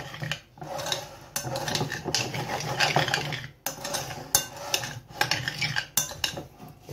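Octopus and citrus salad being tossed with salt and pepper, utensils scraping and clinking against the bowl in steady, close, irregular strokes with brief pauses.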